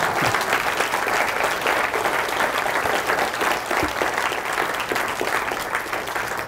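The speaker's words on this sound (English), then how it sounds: "I think you're supposed to clap now." Audience applause at the close of an economics lecture, dense and steady clapping from a full hall sustained throughout at an even, close level.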